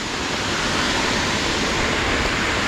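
Waterfall roaring steadily on a trek at Vellimalai, a dense, even wash of falling water close by with no pauses and no voices over it.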